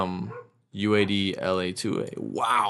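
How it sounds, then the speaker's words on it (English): Several dogs bark loudly and close by in a quick run of sharp, yipping barks, with someone talking over and between them. "excuse the dogs, guys"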